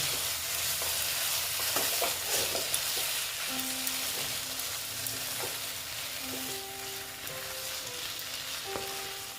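Fried bitter gourd and pumpkin are stirred together in a hot pan, giving a soft, steady sizzle broken by scraping and clinking of the spatula, fairly quiet and close, with no talking.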